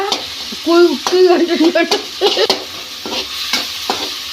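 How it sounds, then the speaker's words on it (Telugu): Green chillies fry in a pan for an egg curry, with a spatula scraping and stirring in short, uneven strokes over a soft, continuous sizzle, heard up close with no talking. "మిర్చి కూడా కొంచెం ఫ్రై అయింది"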